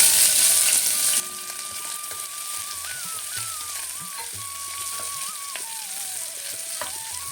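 Onion sautéing in oil with bay leaf, cinnamon, cloves and cardamom for beetroot pulao, a steady close sizzle that drops from a louder hiss after the first second, with a thin whistling tone running through.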